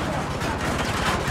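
Grenade launcher fire in the Battlefield 2042 video game, a dense burst of loud rapid blasts and explosions rattling close by.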